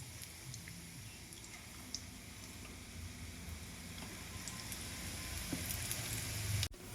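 Spinach pakoda fritters frying in hot oil, a steady close sizzle with soft popping and crackle that grows slightly louder toward the end, no voices.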